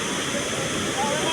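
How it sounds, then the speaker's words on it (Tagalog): Kawasan Falls in Badyan roaring nearby, a dense, continuous rush of falling water filling the whole short moment at steady loudness. "This is Kawasan Falls from Badyan."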